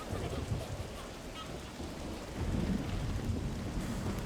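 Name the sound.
rain in the video game Diablo III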